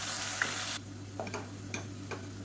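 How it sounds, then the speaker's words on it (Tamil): Soft frying sizzle of ginger, garlic and onion paste at first, then quieter with a few light scraping stirs against a pan and a low steady hum underneath. "இது நல்லா பச்சை வாசனை போக வதக்கிக்கலாம்."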